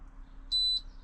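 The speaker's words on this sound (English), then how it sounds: "I hear the beep, that is now the fridge switched off." A single short electronic beep from a camper fridge switching off, steady and high-pitched, sounds once over a low background hum.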